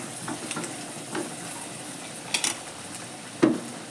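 Vegetables sautéing in a hot kadai for a spicy veg pasta give a steady low sizzle, broken by a few light stirring scrapes and a sharper clink of utensil against metal near the end.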